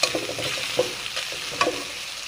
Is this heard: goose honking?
no